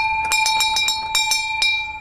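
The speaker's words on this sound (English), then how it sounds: "walked around back, and also rang the bell." A small bell or doorbell at the back of a charity's building chimes in quick bright repeated strikes with ringing overtones, close and loud, with no voices.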